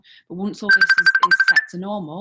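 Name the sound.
telephone ringing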